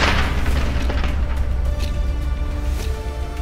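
A loud, deep explosion sound effect, a sustained rumbling boom with crackling debris that fills the whole moment and slowly fades.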